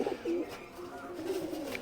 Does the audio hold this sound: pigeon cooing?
yes